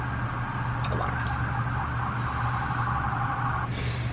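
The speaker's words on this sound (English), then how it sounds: "alarms." Siren alarm sounding outdoors, a steady wailing tone with a faint warble that holds for a few seconds before cutting off, heard at moderate distance over a low constant hum of background noise.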